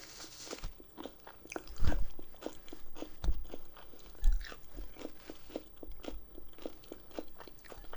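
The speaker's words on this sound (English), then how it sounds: "We're here eating, crunching." Someone bites and chews a burrito with sides and dessert close to the microphone, with rapid crisp crunches, a few louder bites and wet chewing in a steady rhythm, and no talking.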